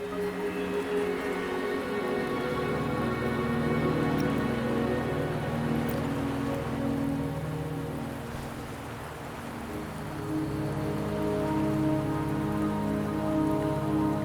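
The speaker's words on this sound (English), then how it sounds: "Don't worry, the rain won't last much longer." Rain falls steadily in the video game Wuthering Waves, a continuous hiss of drops on surfaces with a low rumbling undertone and soft background music, and no voices over it.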